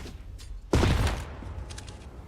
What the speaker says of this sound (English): Nades up, down from JW